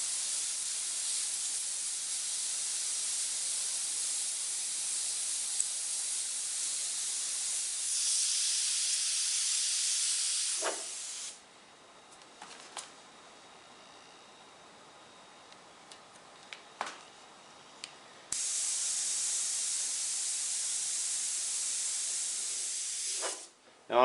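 Airbrush spraying purple candy paint: a steady close hiss runs in long bursts, pausing for several seconds in the middle with small clicks and taps before the spray resumes.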